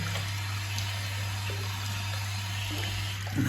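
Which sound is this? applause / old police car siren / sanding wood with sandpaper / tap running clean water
tap running clean water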